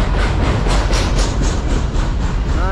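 A CSX manifest freight train led by ET44AH 3333 and ES40DC 5220 locomotives rolls past close by, a loud rumbling roar with a regular rhythmic clatter of wheels over rail joints, no voices.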